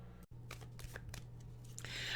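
A deck of tarot cards is shuffled by hand in a quiet indoor setting, giving a series of soft, papery riffles and flicks close by, with a steady low hum underneath and a brighter rustling burst near the end.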